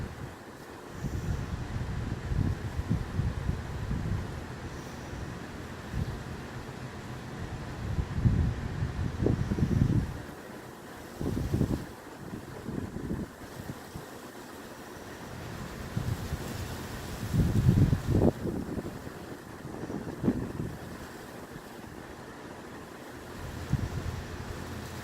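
Strong gusty wind buffets the microphone outdoors beside the water, swelling in repeated bursts over a constant background rush, with no voices.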